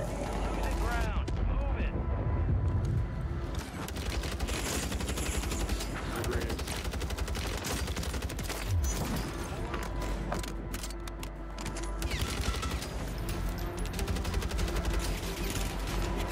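A no-recoil gun fires in Call of Duty Warzone on Rebirth Island, with steady crackling automatic bursts and other battle noise running throughout, while people talk over it.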